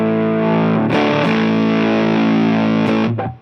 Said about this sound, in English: get the fuzz louder